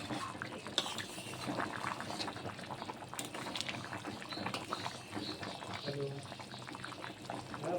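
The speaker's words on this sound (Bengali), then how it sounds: "দেখুন বন্ধুরা, ঝোলটি কিন্তু ফুটে গেছে।" A pot of chicken and chana dal curry gravy with potatoes bubbles and simmers steadily at low level, with occasional stirring clinks and brief talk over it.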